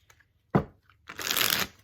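A deck of tarot cards is shuffled up close, a single sharp tap followed by a quick riffling rush of cards that stops cleanly, with no talking.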